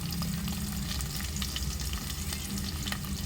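Curry leaves, coriander and ground onion sautéing in a pan for crab curry, a steady close sizzle with light stirring scrapes throughout.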